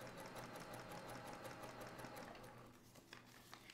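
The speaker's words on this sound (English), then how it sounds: "use a tiny stitch length and sew right on the line. And then just keep sewing." A sewing machine stitching a quilted table runner with a tiny stitch length, giving a steady, fast mechanical whir that runs continuously and fairly quietly, easing off slightly near the end.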